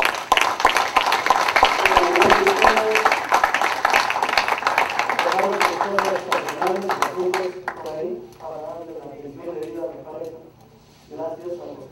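Wedding guests applaud the court of honor, a dense burst of clapping through the first half that thins out as a voice begins speaking over the fading hands.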